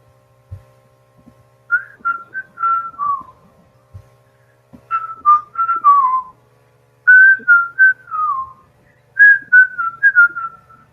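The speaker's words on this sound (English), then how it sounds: "Something being whistled as someone approaches." A person whistles a tune while walking closer, in clear melodic phrases separated by short pauses, alone against a quiet background with a few faint low thumps.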